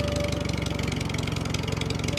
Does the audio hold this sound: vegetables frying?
no